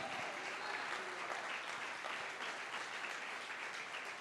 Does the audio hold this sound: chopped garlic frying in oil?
no